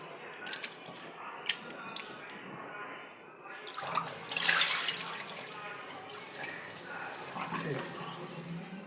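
Flattened rice (poha) is rinsed by hand in a bowl of water in a kitchen, giving close sloshing and trickling splashes that swell midway, with a voice talking over parts of it.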